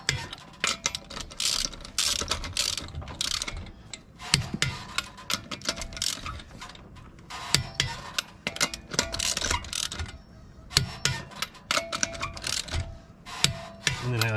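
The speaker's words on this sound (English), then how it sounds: "So let's tighten these suckers down." Car wheel lug nuts being tightened with a wrench during a brake job, heard as close irregular bursts of metallic ratcheting, clicking and rubbing with short pauses between them.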